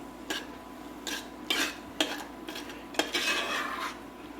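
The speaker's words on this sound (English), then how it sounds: "cook that for about a minute, just turning it over" Flour roux being stirred in a pot for corn chowder, with a series of separate scraping and clinking strokes of a utensil against the pot over a faint background hiss, and no talking.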